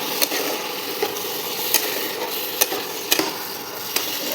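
Ground cumin and other spices stirred in a pan for a non-veg khichdi, with a steady low sizzle and about half a dozen sharp scrapes and clinks of the spoon spaced through it, no talking.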